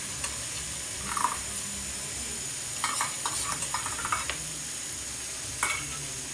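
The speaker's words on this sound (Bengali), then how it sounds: "এবারে 2 চামচ টক দই ভালো করে ফেটিয়ে রেখেছি দিয়ে দিলাম।" Whisked sour yogurt goes into a hot pan of lentils with drumstick greens, giving a soft steady sizzle with a few brief spatters and stirring clinks, heard alone at low level.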